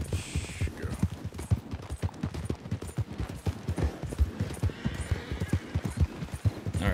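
Horse hooves in the Red Dead Redemption 2 video game pound out a fast, steady clip-clop rhythm at close range, each strike distinct and continuous over a low rumbling background.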